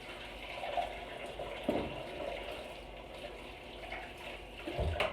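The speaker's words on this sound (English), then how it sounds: "Wash my hands real quick." Tap water runs steadily into a kitchen sink as hands are washed while ribs are being prepared, a close, continuous splashing wash with small shifts in the flow.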